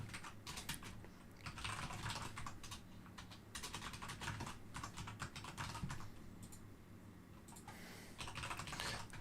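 Computer keyboard typing during live C++ coding, a steady close patter of key clicks with brief pauses between bursts.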